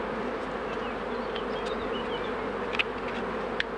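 Honey bees buzz steadily at an open hive, a dense continuous drone with a few individual bees passing close, with no talk.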